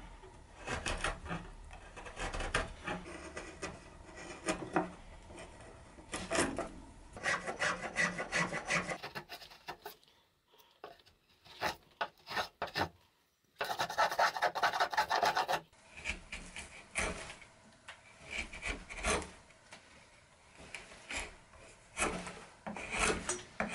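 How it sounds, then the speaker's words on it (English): Chisel and spokeshave carving a bevel along the edge of a wooden bedside table top, a steady rasping scrape in repeated strokes with a short quiet pause partway through. "carved it out with chisel and spokeshave."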